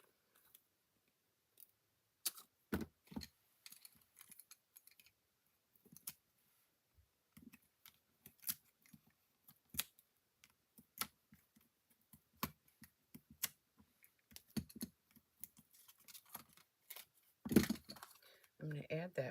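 Scissors snip out paper dimensional stickers for a Christmas card, giving sparse, close, crisp cuts and clicks scattered between quiet gaps, with a few faint spoken words.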